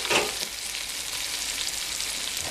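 Potatoes sizzle steadily in a hot pan during a Greek Southern home meal, with a scrape and rustle of stirring near the start, then an even close frying hiss throughout.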